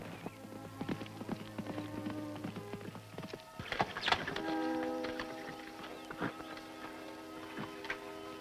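Rhythmic clip-clop of horse hooves at a moderate distance, heard over sustained musical tones, with a brief louder clatter midway.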